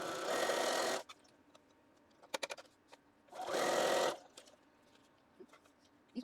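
A sewing machine stitches pinned quilt pieces in two steady bursts of about a second each, separated by quiet pauses filled with faint clicks and handling noises.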